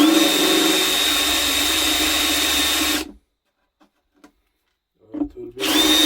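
Drill driving screws into a wooden router table: a loud, steady whirring drive for about three seconds, then silence with a few faint knocks, before the drill starts again at the end.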